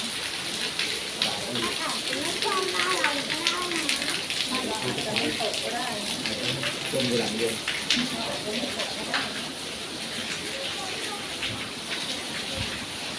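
Steady rain pours down during a flood, a dense hiss of falling water running throughout under a voice talking in Thai.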